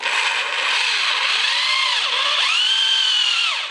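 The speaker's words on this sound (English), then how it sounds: "I'm going to drill this hole out so I can get some more clearance for that bolt." A power drill bores out a bolt hole in a part from a Honda CB160 motorcycle, its steady high whine rising and dipping in pitch as the bit bites, loud and close with no talk.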